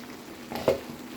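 Lotte fish curry bubbles on high flame in a covered pan, giving a faint, brief sizzle with a small soft swell of frying noise.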